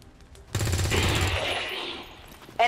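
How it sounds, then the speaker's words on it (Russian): A single loud, close gunshot in the video game XCOM 2: War of the Chosen, with a rattling blast that rumbles and fades over about two seconds, followed by a brief click. "Колдун идет на очень рискованный выстрел"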